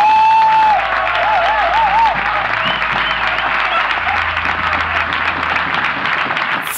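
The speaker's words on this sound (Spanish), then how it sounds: "Quiero pedir un aplauso muy especial para las dueñas del Paracultural, que son Omar Viola y Horacio Gabin." An audience applauds at the Parakultural venue with lively clapping and a few whistles rising above it, kept at a steady, fairly loud level throughout.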